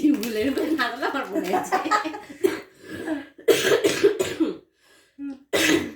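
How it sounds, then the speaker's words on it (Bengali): A person coughs several times in short bursts between stretches of talking and light chuckling, close and fairly loud, with a few brief quiet gaps. "কাশি হচ্ছে"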